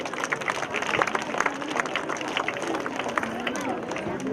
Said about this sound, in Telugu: క్లాప్స్ కొట్టాలండి.